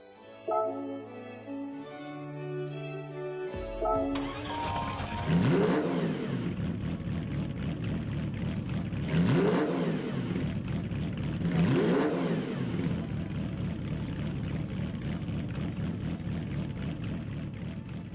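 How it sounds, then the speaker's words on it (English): After a short musical intro, a game car engine revs repeatedly, rising and falling in several surges over a constant loud droning engine roar. "I want to see how this car sounds actually."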